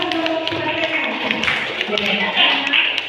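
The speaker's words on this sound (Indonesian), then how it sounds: "Tepuk tangan buat rekan kita" Colleagues clap together in a classroom, a dense, continuous patter of hands lasting throughout, mixed with voices talking and cheering over it.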